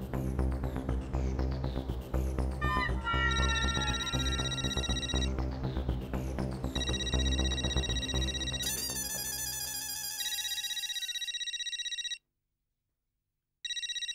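A telephone ringtone plays through a call in a Hindi TV comedy, a bright electronic melody repeating for about twelve seconds before cutting off, then briefly resuming, with no talking.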